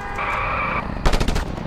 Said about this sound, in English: they're just shooting at the civilians.